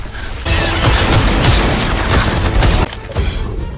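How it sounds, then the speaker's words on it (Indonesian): A team lays down covering fire in an action film, a loud, dense burst of rapid gunfire that rattles for a couple of seconds and then cuts off abruptly. "Tim bintang hitam melakukan tembakan perlindungan."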